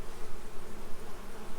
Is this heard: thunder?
no